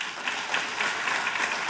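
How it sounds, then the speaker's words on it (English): Lively applause from an audience at a community awards ceremony, many hands clapping with a few louder individual claps standing out, steady for under two seconds. "Let's give them a huge round of applause"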